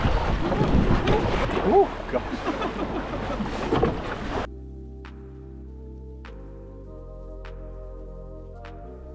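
A small dinghy rides through choppy waves off the Isle of Mull, with loud wind buffeting and splashing water up close while a voice exclaims briefly; the rough noise then cuts abruptly to a quiet background with a low steady hum.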